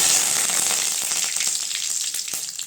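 Dried red chillies and curry leaves sizzle and crackle steadily in hot oil for tomato chutney, a loud, close, continuous frying hiss with small pops and no talking.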